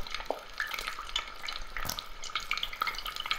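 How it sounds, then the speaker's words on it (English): Oil sizzles and crackles in a pan on a gas hob in a video game, a dense continuous frying hiss with scattered sharp pops, steady and close throughout. "The oil is boiling hot."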